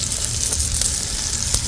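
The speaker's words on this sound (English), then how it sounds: "Sizzling away then" Steak browning in oil inside a cast-iron camp oven sizzles loudly and steadily, a close continuous crackle with a few sharper pops and no voices.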